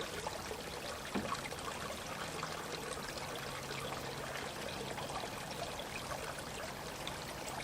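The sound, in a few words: creek water flowing through a new channel dug with backhoe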